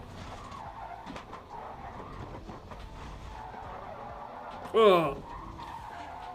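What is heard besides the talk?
Porsche race car sliding on Nordschleife track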